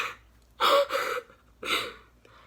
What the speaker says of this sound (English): I gasp.